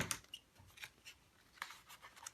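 Scissors snipping diagonally across an envelope corner near the flap while making an art journal, a few faint, close crisp cuts spaced irregularly in a quiet room.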